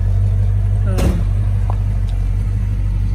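A 1964.5 Ford Mustang convertible idles while warming up outdoors, a steady low engine rumble running throughout with a brief rev-like rise near the start and faint background noise.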